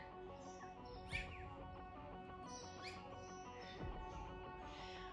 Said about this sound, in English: Lots of birds out today. Don't know if you can hear them chirping.